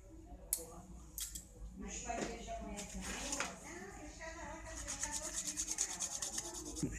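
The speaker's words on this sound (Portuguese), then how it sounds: "E é nessa unha que ela tá cortando agora do outro pé" Toenails clipped and filed during a pedicure, producing close, irregular scraping and rubbing strokes with sharp clicks of the cutter, someone talking over the work throughout.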